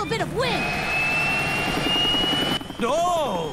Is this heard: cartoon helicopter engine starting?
yes